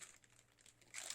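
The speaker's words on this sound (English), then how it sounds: "We pull it out of the cellophane," Cellophane wrapping around a B.Beat unit crinkles softly, then bursts into a louder crackling rustle near the end as the product is pulled free.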